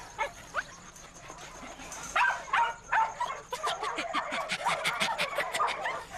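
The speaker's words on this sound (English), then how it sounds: "I can hear him barking" A dog barks repeatedly at a distance, sharp yaps scattered over several seconds amid faint outdoor background noise.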